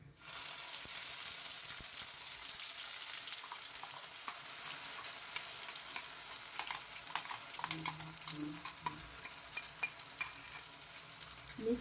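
Spice paste for Malabar paneer hits a pan of lightly fried curry leaves with a bright, continuous sizzle, and stirring adds soft scraping near the end.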